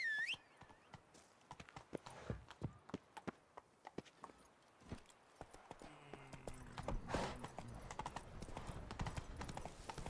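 Roach the horse from The Witcher 3 walks across open countryside, its hooves clip-clopping in a steady, fairly quiet rhythm with occasional sharper, louder hoofbeats.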